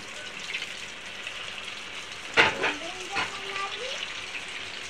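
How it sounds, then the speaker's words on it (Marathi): Small pieces of gobi manchurian deep-fry in oil in a kadhai over a low flame, a soft steady bubbling hiss with a few louder crackles midway, close by and fairly quiet. "कढईमध्ये तेलामध्ये बारीक बारीक मंचुरियन तळून घ्या"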